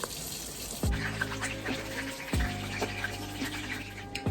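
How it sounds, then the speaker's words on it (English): Water from cooked zucchini pours and trickles steadily into a sink while the zucchini is drained, with a few soft clunks of a pan or colander at intervals. "Now we are going to drain all that excess water off the zucchini."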